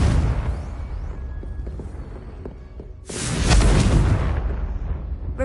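A Confringo blasting spell from Hogwarts Legacy detonates in a heavy, roaring explosion that swells loudly and rumbles on with a long crackling tail, following a stretch of steady low game ambience.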